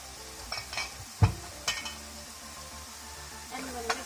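Broccoli pasta is stirred with a bit of oil in a frying pan: scraping utensil strokes, a solid knock against the pan and faint clinks over a soft steady sizzle, with no talking.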